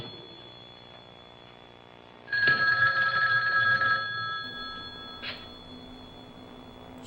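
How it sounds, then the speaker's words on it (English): A telephone bell rings in one loud, sustained burst of about two seconds, followed by a short second jingle, in an otherwise quiet room. "Somebody pick up that damn phone."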